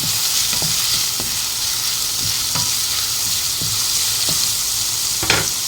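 Ginger fries in hot oil in a pan for escabeche, a dense, steady, close sizzle with occasional soft stirring knocks throughout, no voices.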